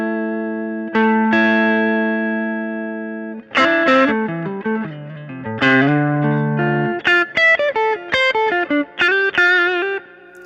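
Electric guitar through a Keeley Blues Disorder pedal on a low gain setting, with light, dynamic overdrive. Chords ring out first, then a run of picked notes and a quick melodic line, played alone and clean-edged.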